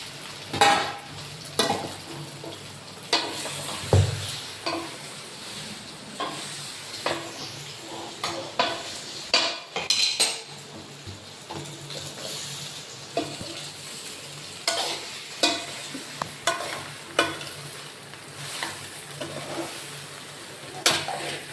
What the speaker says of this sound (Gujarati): મરચાંનો વઘાર થઈ ગયો છે